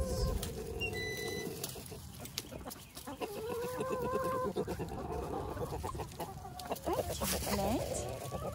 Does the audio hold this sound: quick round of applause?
no